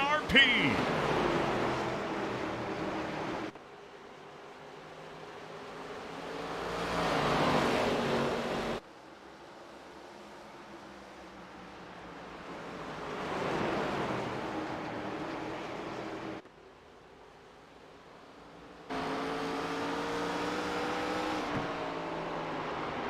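ARCA Series race cars at speed on the oval at Lucas Oil Raceway (IRP), engines roaring in long swells as the pack passes, with a commentator talking over the noise throughout.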